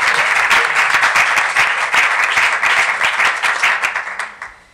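A seminar audience applauding, dense steady clapping from a full room that holds strong for several seconds and then fades out.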